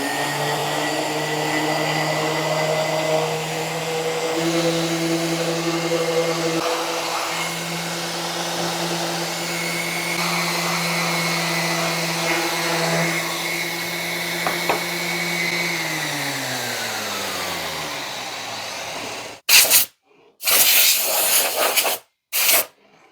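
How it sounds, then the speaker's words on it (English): A power sander runs steadily on a wooden bedside book caddy, giving a continuous whirring drone that winds down in pitch near the end, followed by a few short bursts as it is restarted. "So I'm going to go ahead and sand this up."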